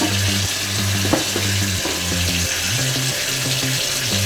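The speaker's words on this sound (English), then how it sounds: "Give your hands a wash." Hands are rinsed under a running kitchen tap while preparing beef tenderloin, giving a steady, close rush of water that continues throughout with soft background music underneath.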